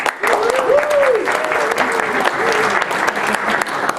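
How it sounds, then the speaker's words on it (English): An audience applauds at an Israel Bonds event, steady dense clapping that fills the whole stretch at close range, with a voice talking over it. "So I'll applaud them again."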